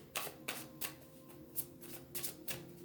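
Oracle cards being handled and shuffled in a quiet room, giving a string of crisp riffling bursts at an uneven pace, close and moderately loud, with no voices.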